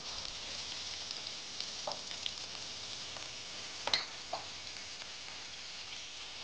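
Chicken with onion, capsicum, ginger and green chili sautés in a pan with a faint, steady sizzle, broken by a few soft ticks and scrapes of a spoon.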